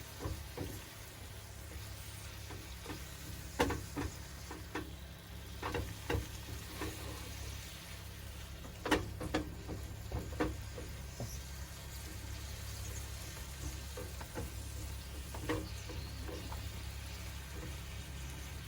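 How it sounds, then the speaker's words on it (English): Spinach and garlic sizzle steadily in a frying pan, with a continuous crackling hiss broken by occasional sharp pops and clinks of stirring, close and alone under a low background hum. "Making sure that garlic gets cooked very well."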